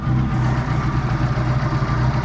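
A restored Ford Escort Mk5 cabriolet idles with a rebuilt engine and a stainless steel exhaust line. It makes a steady, even low purr that stays close and alone throughout.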